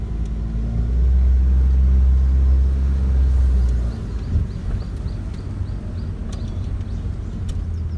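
A car on a mountain road gives a loud, low engine drone that swells for a few seconds and then drops off to a quieter steady road rumble, with no voices over it.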